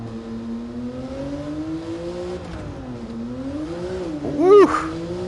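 A Porsche race car in Gran Turismo, driven in VR with a G29 wheel, holds a steady engine drone that rises and dips, ending in a brief louder rev with a tire squeal.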